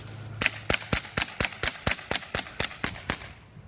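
An airsoft gun fires rapidly, about thirteen sharp cracking shots in an even rhythm, loud and close with no talking.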